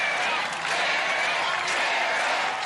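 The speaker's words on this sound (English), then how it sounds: "And this crowd is fired up." A large crowd at an American Ninja Warrior qualifying event in Dallas roars and cheers steadily, a dense continuous wash of noise with a commentator's voice over it.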